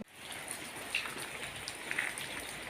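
Steady rain patters on a surface, a constant close wash with scattered sharper drips.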